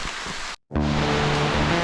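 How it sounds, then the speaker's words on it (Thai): Heavy rain with big drops pours outdoors on a cornfield trail in Nan, a loud, dense hiss that cuts out briefly and then returns with a low steady hum beneath it. "ตอนนี้สภาพฝนตกหนักเลยนะครับ ตกค่อนข้างจะแรง"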